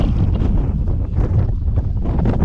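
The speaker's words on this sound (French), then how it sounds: "Que de vent!" Strong wind buffets the microphone continuously on a mountain trail through tall grass near Pic d'Ambrosi, producing a heavy, low rumbling roar with no other distinct sounds.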